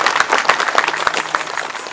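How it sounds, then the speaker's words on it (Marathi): Loud, lively applause from an audience at a kirtan gathering, with distinct sharp claps standing out within a continuous wash of clapping. "एकदा जोरदार टाळ्या वाजवा"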